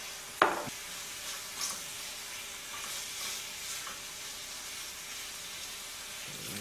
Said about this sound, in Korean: 아, 나 이 기름에 튀겨지듯이 삼겹살